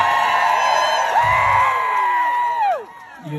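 A crowd gathered at Graceland for Elvis Presley's birthday proclamation cheers, with loud whoops and shouts rising over a strong sustained tonal sound that holds and then falls away near the end.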